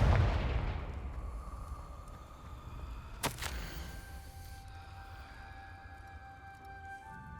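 A single sharp Confringo spell blast in the Hogwarts Legacy video game, one loud crack about midway through, then a ringing tail over quiet ambience.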